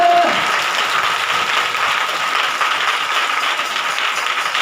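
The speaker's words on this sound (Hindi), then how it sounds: "जोरदार ताली बजा के" Loud, sustained applause from a crowd at a Hindi Bible study, dense steady clapping filling the whole stretch without pause.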